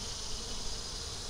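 Honey bees buzzing at a beehive on a hot July day in South Carolina, a steady, dense hum from many insects, continuous and alone without voices.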